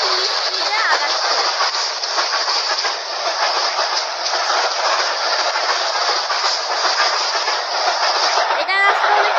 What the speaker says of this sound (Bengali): এখন আমাদের ট্রেন আগাচ্ছে, অনেক ফুল স্পিডে আগাচ্ছে।